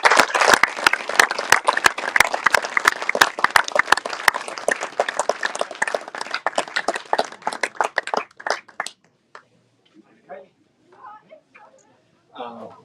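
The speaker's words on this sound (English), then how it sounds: "this is our applause for all of you" Crowd applause at the X-Alps 2023 paragliding race press conference, loud and close with sharp individual claps, dies away midway into scattered claps and brief talk.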